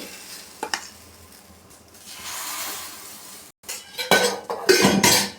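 Another batch of egg vegetable paddu goes into the pan, bringing a soft hiss and then louder sizzling, clinks and scraping of utensils against the pan toward the end; no voices.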